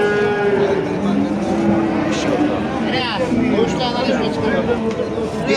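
Cattle low repeatedly at a busy livestock market in Afyon, Turkey, several moos rising over constant crowd chatter and background commotion.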